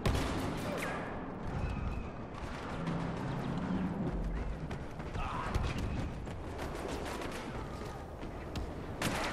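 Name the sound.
explosions in Star Wars Battlefront video game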